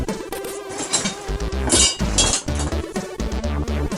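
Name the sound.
hammer tapping an egg wrapped in masking tape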